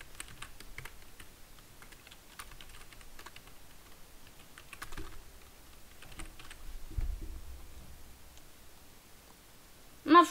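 Fingers type text on a computer keyboard with quiet, irregular key clicks, close and soft, with a few pauses and a small bump of noise near the end.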